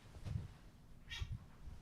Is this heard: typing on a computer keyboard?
no